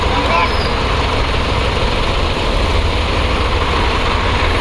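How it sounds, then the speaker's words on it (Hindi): Several tractors idle as they arrive and park at a temple for a Diwali puja, a loud, steady low engine rumble filling the scene with voices mixed in. "धीरे धीरे अपने स्टेशन पे लगा रहे ट्रैक्टर"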